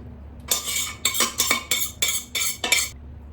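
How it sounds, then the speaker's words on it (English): Abalone sauce being pressed through a metal sieve, giving a run of seven or so close scraping and clinking strokes in a steady rhythm, loud and alone. "So now I'm really like pressing all the liquid out, and even some like little pieces probably go through too."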